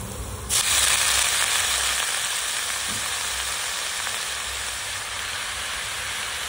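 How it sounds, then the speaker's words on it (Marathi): Chopped red amaranth leaves hit a hot pan, and a loud sizzling hiss bursts in suddenly, then carries on steadily and eases slightly. "तर त्याच्यामध्ये आपण आपली चिरून घेतलेली लाल माठाची भाजी टाकून घेऊया।"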